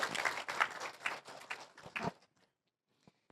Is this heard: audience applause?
yes